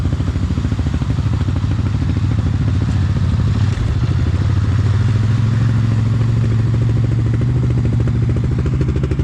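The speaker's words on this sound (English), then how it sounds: "There's that Gen 1 500cc Can-Am." A first-generation Can-Am 500cc ATV engine runs close by on a spring trail ride, a loud steady throbbing drone with a slight rise in pitch partway through and no voices.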